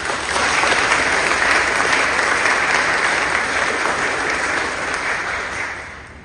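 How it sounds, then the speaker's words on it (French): Congregation applauding during a Protestant Sunday service in church, a loud, full, sustained wash of clapping that holds steady and gently fades near the end. "D'abord, on va vous applaudir."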